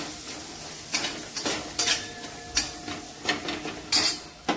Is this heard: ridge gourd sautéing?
yes